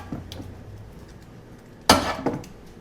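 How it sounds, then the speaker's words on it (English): Chicken wings being flipped over in a metal air fryer basket, giving one sharp clattering knock followed by a second, smaller rattle, close and fairly loud after a quiet stretch. "we're going to take our wings and just flip them over"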